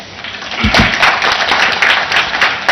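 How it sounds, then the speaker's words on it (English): Applause for a government minister in the National Assembly of Zambia, steady and fairly loud across the chamber for a few seconds, with a low thump near the start. "Another round of applause for the Honorable Minister."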